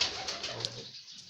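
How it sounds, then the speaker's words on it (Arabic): Pigeons coo softly while building a nest, a brief close murmur of bird calls with a faint higher-pitched chirp, no talking. "الحمام اهو شغال كله اهو، بيجهز عش"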